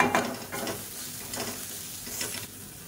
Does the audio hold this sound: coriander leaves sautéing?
yes